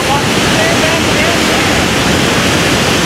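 River water rushes steadily through a rock pothole on the Athabasca, a loud, continuous broadband roar of churning water that fills the whole clip without pause.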